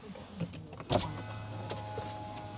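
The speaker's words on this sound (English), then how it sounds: "Release parking brake." The electric parking brake releases in a 2023 LDV eT60 electric ute, a brief motorised whirr and clunk heard up close inside the cab over a low hum, with a soft click afterward.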